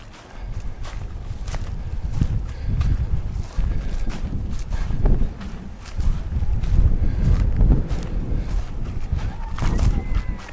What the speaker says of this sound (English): A little bit breezy out on these points like this